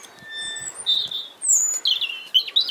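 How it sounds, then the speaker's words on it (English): A robin sings close by on a March walk at Stanley Marsh, giving thin, high warbled phrases in short bursts separated by brief pauses against a quiet outdoor background. "You can hear a robin at the side of me."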